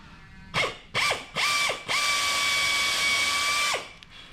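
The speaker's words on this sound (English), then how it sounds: "we're gonna put our pilot hole in the middle of the post" A power drill bores a pilot hole into the middle of a wooden rocking chair post: three short whirring bursts, then a sustained run of about two seconds that winds down, close and clear.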